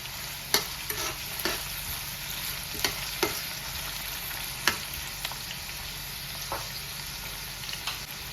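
Finely chopped onions fry in hot oil in a pan with a steady close sizzle, while a spoon stirs them and scrapes the pan in scattered sharp clicks.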